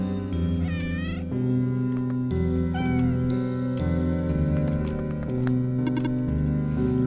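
A cat gives a few clear rising meows over steady loud background music, with no talk over it.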